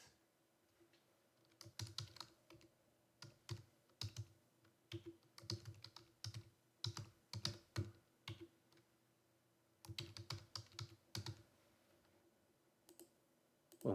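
Computer keyboard typing and mouse clicking at a desk while building a business process diagram, rapid close clattering bursts of keystrokes with short pauses and a few separate clicks, quiet room, no talk.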